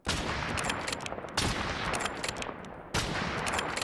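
An SPR 300 sniper rifle in a Fallout 4 mod fires three sharp, punchy shots about 1.5 seconds apart, with rapid crackling mechanical clicks of a bolt pull between them, loud and close with no talk.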